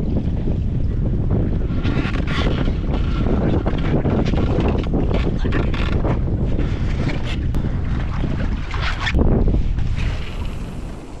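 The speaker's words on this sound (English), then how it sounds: "the wind's starting to shift just a little bit offshore" Strong, steady wind buffets the microphone on open water during canoe fishing in high winds, a continuous loud roar with gusting surges and water slapping, with no talking.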